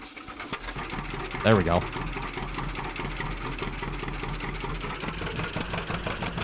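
A John Deere 620 tractor in Farming Simulator 17 cranks briefly and fires with a short loud burst, then settles into a steady mid-pitched idle; someone speaks briefly over it.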